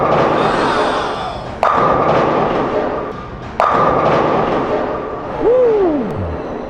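A bowling ball thrown hard down the lane, with loud thumping impacts and a rolling rumble, ending in a clattering pin strike, in a bowling alley.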